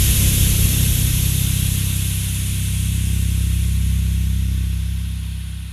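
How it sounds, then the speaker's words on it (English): Boiler steam hisses loudly and continuously through building pipes, a broad steady rushing noise with a low rumbling undertone that holds for several seconds before easing slightly. "A loud hiss startled me out of my thoughts. It must have gotten cold outside because the steam from the boiler was bumping around through the pipes."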